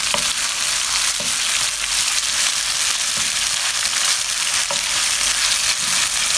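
Steady, close sizzling of minced meat frying in hot oil, with occasional scraping stirs breaking through the continuous crackle.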